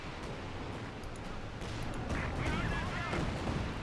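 Company of Heroes 2 battle sounds: a dense, continuous wash of artillery fire, gunfire and explosions, heavy and rumbling, growing louder in the second half, with a few sharp high crackles and no speech.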